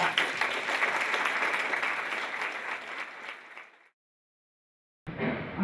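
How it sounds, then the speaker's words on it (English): Audience applause for guests and newcomers at a multicultural symposium fills nearly four seconds as a dense, even wash of many hands, then fades into silence before a short burst of room noise returns. "Let's give them all a big round of applause."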